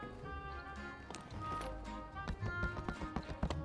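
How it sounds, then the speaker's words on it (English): Rapid hoofbeats clip-clop in a steady galloping rhythm in the video game My Time at Sandrock, fairly quiet, with synthetic game-like tones layered underneath. "This horse is so cool now."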